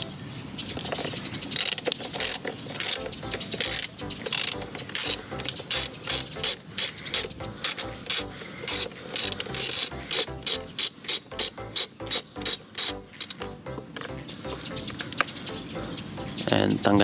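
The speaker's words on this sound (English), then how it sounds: "Susunod natin tatanggalin ito ng mounting bolts na ng airbox natin." A ratchet loosens the 10 mm airbox mounting bolts on a Raider 150 Fi motorcycle, giving rapid, continuous clicking pawl strokes in quick bursts, close and fairly loud throughout.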